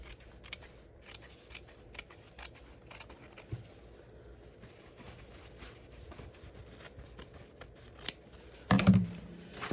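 Scissors snip through fabric for a junk journal cover in a long series of quick, crisp cuts with short pauses, close and alone, ending in a louder rustle.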